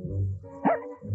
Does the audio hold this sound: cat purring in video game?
no